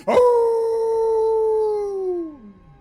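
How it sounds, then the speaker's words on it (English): A wolf lets out one long, sustained howl, loud and close, holding a steady pitch before sliding downward and fading out at the end. "he just continues with these wild howls and barks at you"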